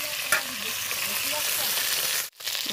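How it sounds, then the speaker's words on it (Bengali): Fish pieces frying in a pan of oil give a steady, dense sizzle close by, with a brief sharp clink near the start and a short drop in the sizzle toward the end. "আস্তে আস্তে আমি মাছটাকে ভালো করে ভেজে নেব, লাল করে"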